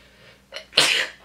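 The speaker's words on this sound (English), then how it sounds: "hold on, I have to sneeze" A single sharp human sneeze, a short quiet intake followed by a loud explosive burst up close, with no talking.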